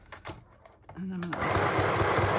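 A sewing machine stitches a fabric tag on a straight stitch, a close, fast whirring run that starts after a short pause with a voice talking before it.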